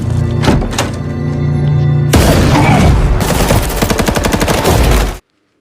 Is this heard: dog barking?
no